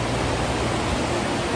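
A constant, close roar of falling and flowing water comes from the Tumpak Sewu waterfall and river in East Java, loud and even throughout the brief moment.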